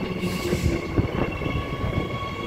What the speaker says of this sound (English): EMU's 116 and 96 departing for Butler.